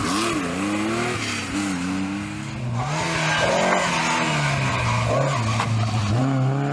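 Tuthill-prepared Porsche rally car driving hard on a historic rally stage, its engine loud and close with rising and falling revs through gear changes, plus gravelly road noise throughout.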